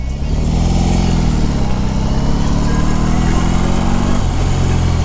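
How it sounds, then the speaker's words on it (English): A 2022 BMW R18 B motorcycle with a boxer engine, ridden on a Southern California road, gives a steady loud, deep exhaust rumble and engine drone, close up and continuous, with wind noise. "the sound of the exhaust and the engine on this bike"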